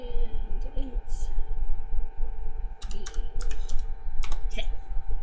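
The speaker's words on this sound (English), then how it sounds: "sorry, my keyboard's all the way over here." Typing on a computer keyboard: a quick run of crisp keystroke clicks in the second half, over a steady low room hum.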